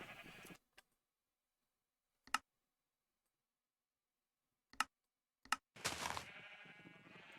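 Sheep in Minecraft bleat in short separate calls across stretches of silence, ending in a longer, fuller bleat.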